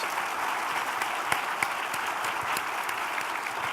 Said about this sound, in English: How about a round of applause for our three guest speakers?